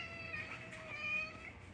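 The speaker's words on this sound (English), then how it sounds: "Wait, my cat's at my door." A cat meows at a door indoors, a faint, drawn-out tonal cry that holds for under two seconds with soft room noise around it.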